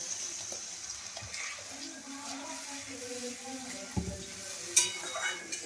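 Masala frying in oil in a wok hisses and sizzles softly as water is added, with faint stirring clatter and a couple of sharp utensil knocks toward the end.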